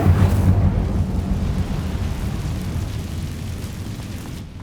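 Incendio fire spell cast in Hogwarts Legacy, a loud roaring whoosh that bursts at once and then rumbles on, slowly fading over several seconds.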